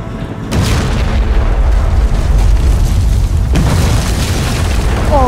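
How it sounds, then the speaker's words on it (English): A big explosion bursts with a deep boom and then rumbles on loudly in a sustained roar, with a second crack partway through, in an alien cube game. "Who knew the explosion would be that big?"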